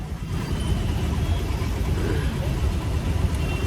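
Motor vehicles arriving for a bullock cart race, a steady low engine rumble close by with a continuous idling and revving drone throughout.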